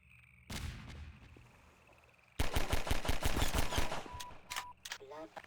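Video game grenades go off in a rapid run of loud booms and crackling blasts, after an earlier single explosion and a quieter stretch, with a person talking over the action.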